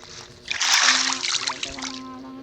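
Water splashes onto a person in a sudden burst of spray and sloshing that swells quickly and trails off over a second or two, with a voice heard faintly around it.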